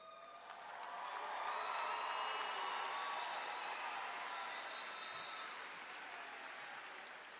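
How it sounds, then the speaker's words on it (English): Applause fills a graduation commencement hall as the Parkland High School class of 2025 is called up for diplomas: a faint, distant wash of clapping that swells in, holds for several seconds, then slowly thins. "please keep their applause to an appropriate level"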